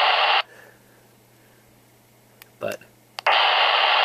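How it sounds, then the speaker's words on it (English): Steady hiss of static from a Baofeng UV-3R handheld radio with its squelch lowered, loud for about half a second, then cut off for a stretch with a brief spoken word and faint clicks, before the hiss returns at full strength. "that one's actually giving me some background noise, so obviously I'm receiving from it"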